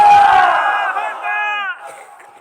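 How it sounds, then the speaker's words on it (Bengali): A large crowd at a Bengali religious sermon roars Allahu Akbar in unison, a loud close shout that swells and then trails off over about two seconds. "জয় বলুন আল্লাহু আকবার"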